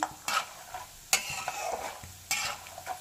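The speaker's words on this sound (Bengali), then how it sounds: "খানিকটা বাদামও ভেজে নিচ্ছি।" Peanuts frying in a pan while being stirred, giving a soft continuous sizzle broken by three sharp scraping strokes of the spatula, close and fairly quiet, with no voices.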